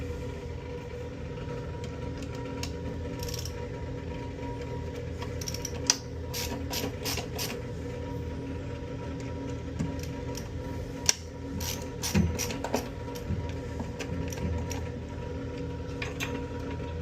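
Screws come off a Flushmate toilet tank cartridge to the quick clicking of a ratcheting driver, heard in short bursts over a steady low hum, close and fairly quiet, with no talking.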